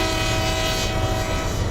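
A BNSF coal train rolls through the Trainz 19 simulator, a dense, steady rumble of engine and wagons with a sustained horn-like tone held throughout the brief stretch.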